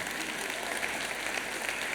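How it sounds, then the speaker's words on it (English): A church congregation gives a sustained burst of dense applause during a sermon, forming a continuous wash of many hands clapping at once with no pauses. "Now give the Lord a clap offering."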